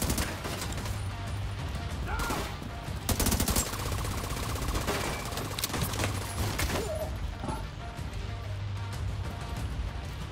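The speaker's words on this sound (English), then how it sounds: "It's a big machine gun." Sustained bursts of heavy machine gun fire in The Division 2, dense and loud throughout with brief pauses and sharper cracks around the middle.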